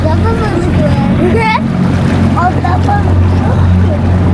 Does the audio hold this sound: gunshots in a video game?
no